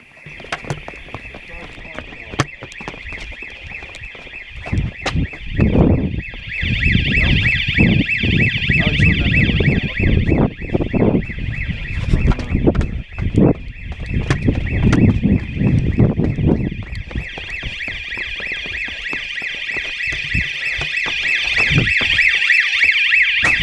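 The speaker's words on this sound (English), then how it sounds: "Down here right now, setting off this alarm" An electronic alarm wails inside Duffus Castle, a pulsing high tone that keeps sounding, with people talking and rough wind or handling noise beneath it.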